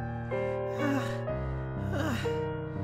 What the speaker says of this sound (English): All Mika could do was gasp and twitch as she rested against my chest.